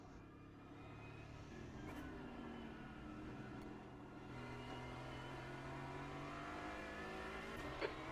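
GT4 race car engine in the iRacing sim, droning steadily at moderate revs during a tyre warm-up lap at Oran Park, with slowly shifting pitch and a brief click near the end, no talking.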